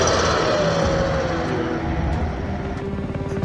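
Heavy, steady mechanical rumble of tanks moving through Kyiv during wartime fighting, a loud continuous low drone that eases slightly toward the end.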